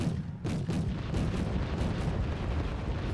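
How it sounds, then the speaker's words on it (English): Mortar rounds firing in the military strategy game Wargame Red Dragon, a dense run of heavy booming blasts over a constant rumbling battlefield din, loud and close, with no talking. "Mortars fire on the diggers"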